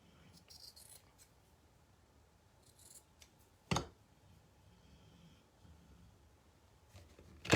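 Scissors trim a jute banner flag, with a few sharp snips standing out against a quiet background, plus faint rustling and clicking.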